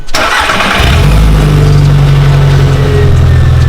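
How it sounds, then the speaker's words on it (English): A cheap project car's engine cranks briefly, then catches and settles into a loud, steady low rumble at idle that carries on without pause. "start the car up for the first time"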